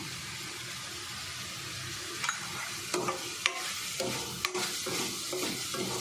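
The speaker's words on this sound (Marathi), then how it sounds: "परत एकदा मिक्स करायचं आणि तिखट मसाला टाकून घ्यायचा" Bitter gourd fry being stirred with chilli masala in a pan, a soft constant sizzle broken by irregular spatula scrapes and clinks against the pan, close by.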